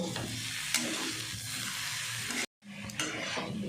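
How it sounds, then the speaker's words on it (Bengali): Soya chunks fry with spices in a pan, a steady sizzling hiss with occasional stirring scrapes, cut by a brief moment of silence before the frying resumes. "এরপর মশলার সাথে ভালো করে কষিয়ে নেব।"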